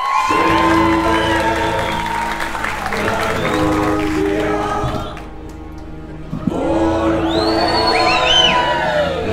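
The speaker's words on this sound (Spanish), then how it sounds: "Fuerte el aplauso para él." A live comedy-show crowd in Colombia claps, whoops and cheers as a comedian is introduced, loud and dense at first, dipping briefly before surging again with shouts and whistles over the applause.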